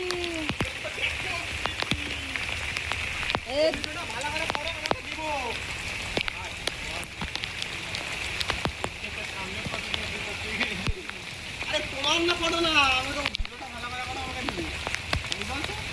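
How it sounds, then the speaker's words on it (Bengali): Heavy rain pouring down in a steady, broad hiss that lasts the whole time, with a person talking intermittently over it. "কি অবস্থা, কি বৃষ্টি হচ্ছে।"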